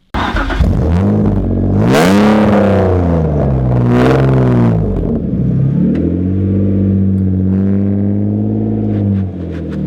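A BMW 330i drift car with a 3-litre engine revs hard from inside the cabin, two sharp climbs to high revs and back down, then a lower steady drone, loud and close with no talk.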